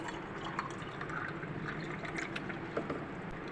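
Raw mango sharbat being stirred with water, soft close-up sloshing and swirling liquid with light clinks and drips, quiet and continuous.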